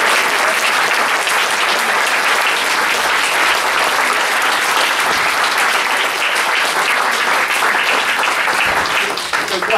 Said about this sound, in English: I want everybody to give these family members a big hand.